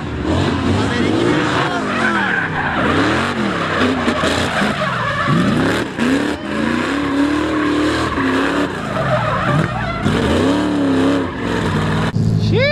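A Ford Maverick drifts on a track, its tires squealing and skidding in long wavering screeches over a loud revving engine, close and continuous.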